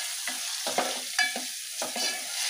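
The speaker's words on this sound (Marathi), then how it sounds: "परतून घेते।" Fenugreek leaves being sautéed in a pan over low heat, with a steady soft sizzle and several brief scraping stirs of a utensil, close and alone without talk.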